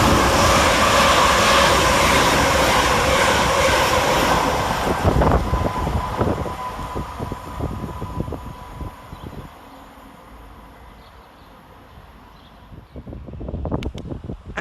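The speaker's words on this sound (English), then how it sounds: "passing fast through the station is 350-372 and 350-242, working 2 Yankee 64 from Birmingham New Street to Northampton" Two Class 350 electric multiple units rush through Stechford station on a Birmingham New Street to Northampton run, a loud broadband roar that fades away over several seconds, leaving quiet platform ambience and a brief rise near the end.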